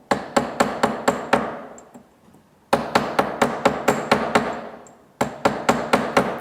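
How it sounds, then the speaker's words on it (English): Sharp metallic hammer strikes on a dapping punch set in a dapping block, in quick, even bursts of five to seven blows, separated by brief pauses, close and loud. "It's important to rotate the tool like this as you're hammering in order to get a perfect circle dap"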